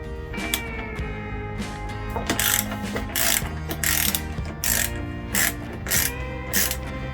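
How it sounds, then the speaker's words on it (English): Ratchet loosens a bolt near the foot peg of a Kawasaki Ninja 400 during an exhaust install, heard close as a steady run of clicking strokes with louder rasping pulls at regular intervals. "Now we're just going to loosen up this bolt"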